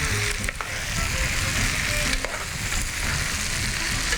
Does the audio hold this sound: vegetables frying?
yes